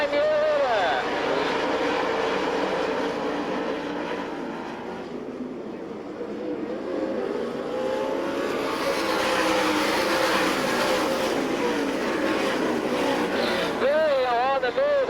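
Dirt track race cars at an All Stars vs NCRA sprint car event in Tulsa, Oklahoma, roaring past in a continuous engine drone with revving swells, heard under a loud announcer's commentary.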